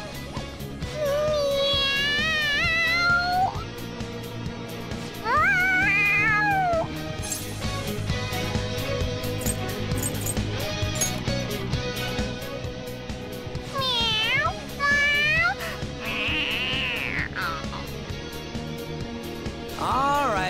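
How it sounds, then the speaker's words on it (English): A cat in the Persona 5 video game meows excitedly in several loud, rising-and-falling calls spaced across the stretch, with game music and background sound running underneath throughout. "The cat's acting awfully excited."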